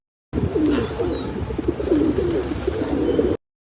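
Dozens of pigeons coo in low, throaty, repeating calls that overlap into a steady murmur under trees and rooftops, fairly close and continuous throughout.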